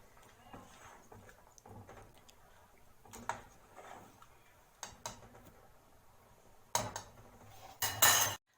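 Metal spoon scraping and knocking inside a pot while cumin and salt are stirred into cooking food, a string of soft clinks followed by louder, sharper clatters near the end.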